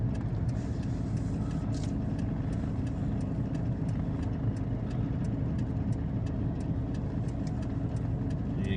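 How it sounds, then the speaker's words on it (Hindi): A car rolls uphill by itself on a gravity hill road, a steady low engine hum running throughout with faint, regular light ticks and no talking. "इधर से खुद जा रही है गाड़ी"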